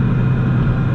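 Loud, steady low rumble of a stock supercharged car engine with stock pulley and intake, running continuously up close without any talking.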